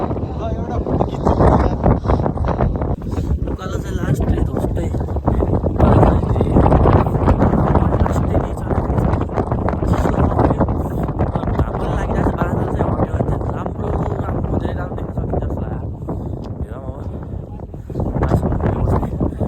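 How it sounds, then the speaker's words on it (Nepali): Strong cold wind on a mountain during a trek, buffeting the microphone in loud, gusty rumbles that last throughout while people talk over it. "चिसो नि उस्तै हावा पनि डेन्जर हाने।"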